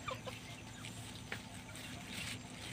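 Chickens clucking on a Philippine farm as they follow people around, soft scattered clucks over a steady outdoor background.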